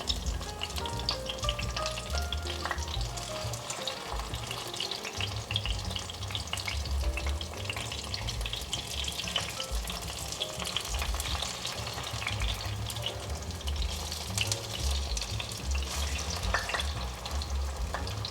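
Loofah and tofu pan-fry in a pan and are turned until both sides brown, giving a steady, continuous sizzle that runs beneath background music.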